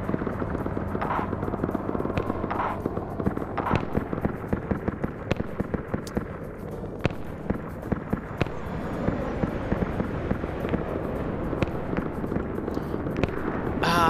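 White phosphorus rounds firing in Arma 3 SOG during a defense of Khe Sanh, heard as repeated sharp distant cracks and pops scattered over a steady rotor-like drone, fairly faint and spread out.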